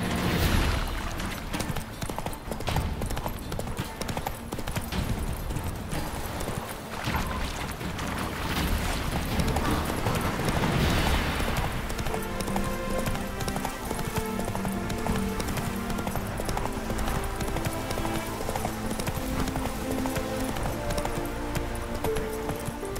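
Roach, a horse in The Witcher 3 video game, gallops in a steady stream of hoofbeats under continuous dense game sound and music, with no clear gap the whole way through.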